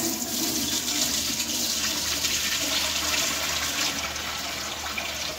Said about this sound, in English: we are just going to use a strainer and just strain that right off into our big pot